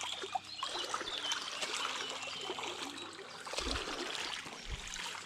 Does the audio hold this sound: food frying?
no